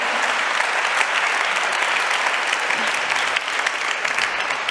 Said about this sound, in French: Voilà, vous pouvez l'applaudir.